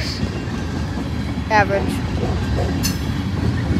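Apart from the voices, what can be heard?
Norfolk Southern manifest freight train passing with hopper cars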